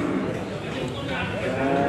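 Cattle mooing loudly and close at a livestock market, a sustained low lowing call that fills the moment with faint crowd noise beneath.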